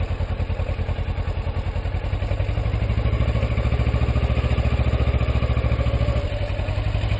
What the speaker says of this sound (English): And then you can give it a little gas.